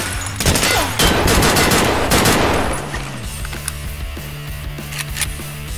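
Rapid automatic gunfire in the shooter Escape from Tarkov, loud, close bursts in the first half that give way to sparse, distant single shots and clicks.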